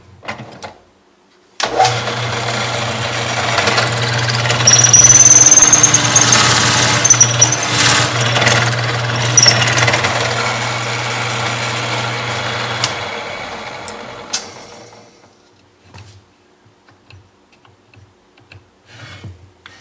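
A power tool whirs steadily at close range as it grinds down a wooden pen blank, running for about twelve seconds with a steady hum before spinning down and stopping into near silence.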